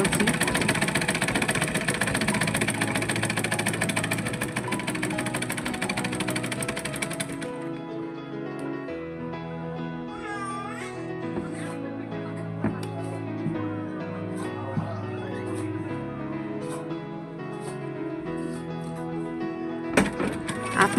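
A sewing machine stitches cutwork fabric with a continuous, rapid mechanical chatter that holds steady throughout, heard with no talking.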